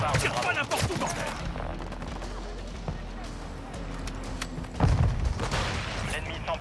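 Bursts of automatic gunfire crackle through a Call of Duty multiplayer match, layered with rapid shots and impacts while someone talks over the continuous game noise and a loud burst stands out near the end.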